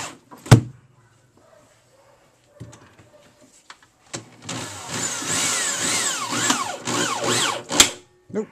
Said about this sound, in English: we're going to screw the fan down into the wood on the cabinet